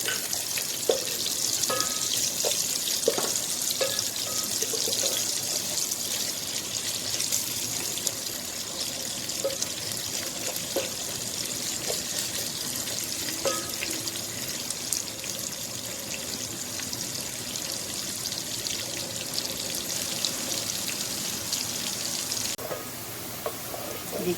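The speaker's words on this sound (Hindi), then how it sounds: "अब मैं इसमें ये बारीक कटी हुई प्याज ये डाल दूँगी।" Finely chopped onions with cumin fry in hot oil for golden-fried mash daal, a steady close hiss of sizzling that runs unbroken with a few faint clicks and no talking.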